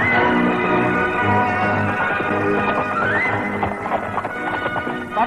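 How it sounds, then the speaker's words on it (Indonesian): A galloping horse in an Indonesian radio drama, rapid clip-clop hoofbeats driven hard alongside a whinny and dramatic background music, loud and continuous with no talk. "kuda itu tidak mau kendor"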